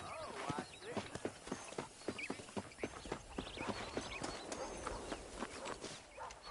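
Horse hooves in Red Dead Redemption clop in a steady walking rhythm, close and clear, with voices talking over them throughout.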